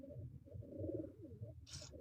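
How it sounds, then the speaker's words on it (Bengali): Pigeons give a soft, low cooing throughout a brief moment as they take flight, faint and distant, ending with a short rustling burst. "এই দেখো 4টি পায়রা আর ওই দেখো ছাতি নর ওপরে সবারই 5টা পায়রা কি সুন্দর উঠছে দেখো।"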